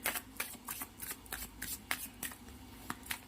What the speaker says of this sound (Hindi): कुछ कार्ड्स और ले लेते हैं।